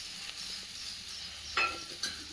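A cucumber paratha sizzles in oil on a pan, a soft, steady hiss with a couple of brief louder crackles near the end, no voices.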